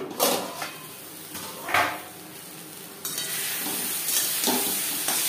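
Yardlong beans cooking in a covered pan over a low gas flame give a continuous close sizzle, with a few stirring and lid clatters punctuating it and no talk.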